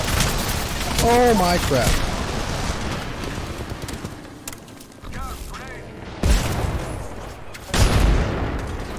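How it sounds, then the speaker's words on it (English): Gunfire from being shot at in a video game, with loud bursts of shots and booms coming in waves, mixed with someone talking and exclaiming over the top. "Listen up, I'm getting shot at."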